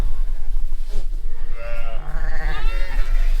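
Sheep bleat loudly and close by on a farm in freezing winter cold, around -33°C, with several overlapping, wavering cries in the second half over a steady low rumble.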